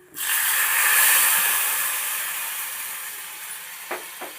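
A loud hiss as tamarind water hits a hot pan of spinach mash tempering, surging then slowly settling into a fading sizzle, with two small clinks near the end.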